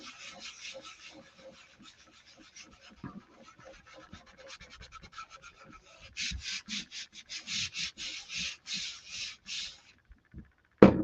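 A Chalk Couture transfer being burnished onto a t-shirt, with soft close rubbing and scratching strokes that turn into a louder, rhythmic run of scrapes in the second half, no voices.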